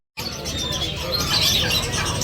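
Parrots and pigeons at a pet market chirp and tweet in a dense, close overlapping chorus, bright calls layering over a busy background that starts abruptly and keeps going.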